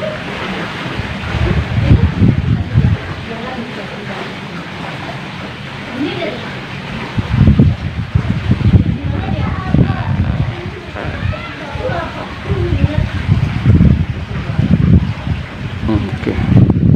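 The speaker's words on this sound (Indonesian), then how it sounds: "karena tiba-tiba ada angin" Wind gusts buffet the microphone outdoors at an air-rifle shooting session, coming in loud rumbling bursts that swell and ease. Someone speaks at intervals over the gusts.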